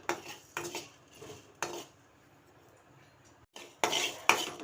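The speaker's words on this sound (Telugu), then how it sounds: "ధనియాలు వేయించుకోవాలి" Coriander seeds dry-roast in a pan, producing intermittent metallic scraping and rattling as a utensil stirs them, in short bursts separated by brief quiet gaps.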